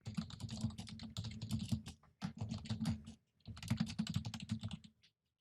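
Keys tapped on a computer keyboard while entering a file name before exporting a GIF in screen-recording software: three bursts of fast, close, crisp typing, separated by short pauses.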